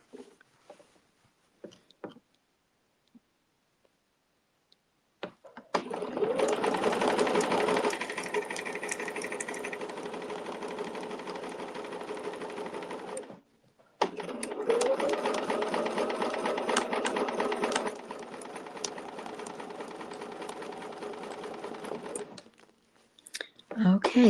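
A sewing machine stitches in two long, steady runs, close and loud, separated by a short pause.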